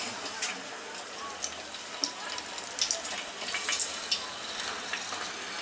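Coriander leaf pakora drops into hot oil and fries with a steady hissing sizzle and small crackling pops, with a voice speaking faintly at times.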